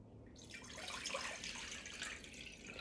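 Water poured into a mixing bowl for sourdough dough, 500 grams going in as a steady, soft splashing stream that starts abruptly and continues alone.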